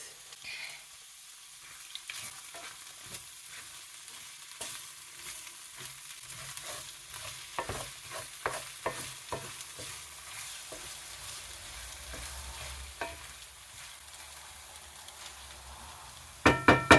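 Spring onions sizzle gently in a pot on reduced heat during a one-pot chickpea quinoa dish, with repeated scraping stir strokes across the middle and a few louder clatters at the end.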